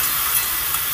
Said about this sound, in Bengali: আমি ভেন্ডিটাকে ভেজে নেব।